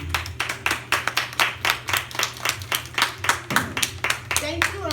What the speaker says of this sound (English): 1, 2, 3, clap.